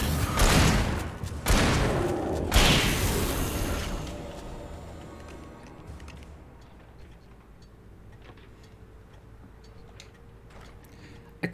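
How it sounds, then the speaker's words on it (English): Shotgun blasts in Alan Wake Remastered crack out in quick succession, loud and broadband with dense reverberant tails, then fade into a quiet game ambience with faint ticking. "I'll just use a shotgun."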